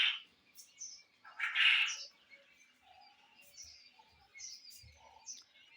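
Quails chirp inside a cage, a few short high calls and brief tweets scattered over several seconds, close and fairly soft, with faint low knocks between them.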